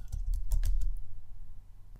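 A computer keyboard clicks through a quick burst of several keystrokes, crisp and close, then quiets under a faint low hum.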